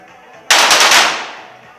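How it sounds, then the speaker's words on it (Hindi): A single sharp, loud pistol shot at a women's 25m pistol shooting competition at the Khelo India University Games 2023 in Guwahati, with a reverberant tail fading over about a second. "जबकि तेजस्विनी के अगर देखें तो 2 शॉट उनको 2 अंक दिलाते हुए"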